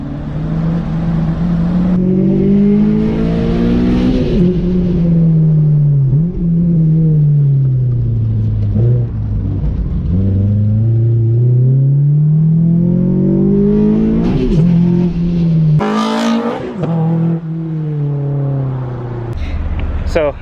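A race car's engine on a hot lap is heard from close range and sounds loud. The pitch climbs and drops again and again through the gears, with sharp revving peaks between longer pulls.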